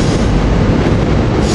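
Warminster commuter train, number 454, rolls into 30th Street station during rush hour: a loud, steady rumble of rail cars with grinding wheel noise and no talk.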